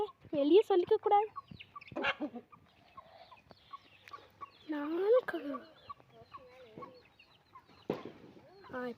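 Backyard chickens cluck and squawk at a country coop, several birds calling in short bursts near and far, with a brief talking voice now and then.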